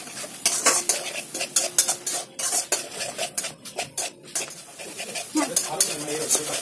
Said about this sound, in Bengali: এটা কন্টিনিউ নাড়তে হবে, যেহেতু কাজু আছে যাতে কড়াই ধরে না যায়